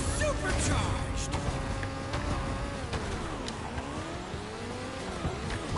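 A kart in the Crash Team Racing video game fires a supercharged boost, with engine whine sweeping up and down and sliding, tire-like squeals over a busy game soundtrack.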